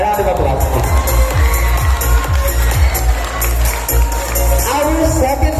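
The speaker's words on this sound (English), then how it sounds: "A round of applause, please." A crowd at a high school sportsfest judge introduction claps and cheers loudly over a heavy low rumble, with voices mixed into the noise.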